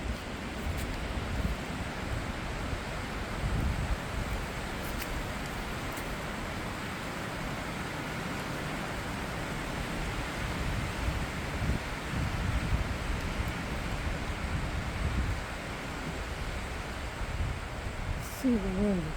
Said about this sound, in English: It's a loud wind sound.